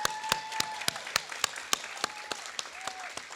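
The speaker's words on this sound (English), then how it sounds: "Can we get another round of applause to Professor Martinez and Professor Lim" An audience at a Latino cultural celebration gives another round of applause for two professors, a sparse scatter of claps with a few sharp, distinct hand claps standing out at a steady pace, fairly quiet overall.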